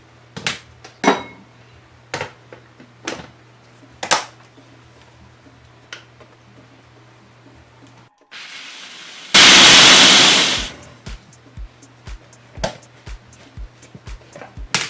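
A food processor grinds hazelnuts toward a powder in one loud burst of about two seconds, with a shorter buzz just before it. Scattered knocks and taps from scraping and tamping the bowl come before and after.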